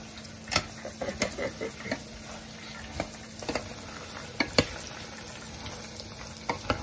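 Garlic and peanuts fry in a pan with a steady sizzling hiss, punctuated by scraping stirs and clinks of a utensil against the pan at irregular intervals, close up and without speech.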